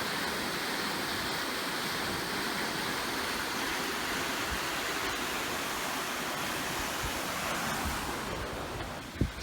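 Steady, dense roar of the Chattahoochee River waterfall pouring over rocks, broadband and unbroken for the whole stretch, close and loud with no voices.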